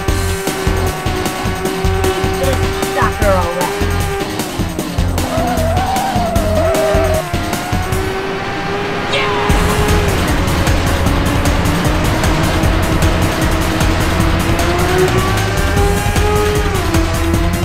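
Race cars roar and whine continuously in a PlayStation racing video game, loud close engine tones rising and falling with repeated tire squeals and skids. There is a brief dip in the middle before the engines surge back.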